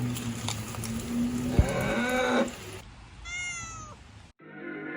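A sheep on an old farm gives wavering bleats, a loud nearby cry followed by fainter, higher quavering calls after a sharp bump, with no talk.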